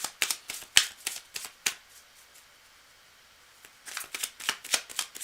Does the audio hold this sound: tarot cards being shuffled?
yes